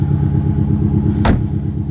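A steady, burbling Subaru Liberty (Legacy) engine idle with rhythmic exhaust pulses, close and loud, interrupted by one brief sharp click or clatter midway.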